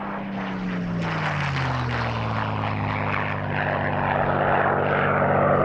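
Supermarine Spitfire MH434, flown by Ray Hanna in a 1996 Duxford airshow display, roars past with a loud, steady piston-engine drone whose pitch falls as it passes close overhead.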